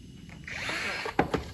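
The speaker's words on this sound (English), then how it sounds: "right now I'm going to countersink this bolt, 3/8 bolt" A power drill bores a countersink into wood for a 3/8-inch bolt, a steady whirring grind for about a second, ending in two sharp bursts as the bit bites, with no talk.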